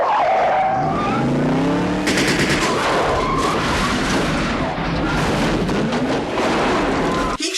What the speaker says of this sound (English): sparking your standard action movie car chase